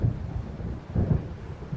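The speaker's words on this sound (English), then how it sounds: "It seems there's a storm coming." Low rolling thunder of an approaching storm in the game Alan Wake rumbles in two swells under a faint wash of rain, with no talk.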